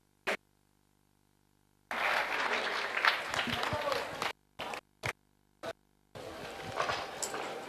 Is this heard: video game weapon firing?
no